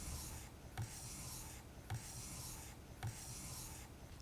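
A steel blade held in a honing guide is pushed across a 4000 grit sharpening stone in steady, even rubbing strokes, roughly one per second, quiet and close.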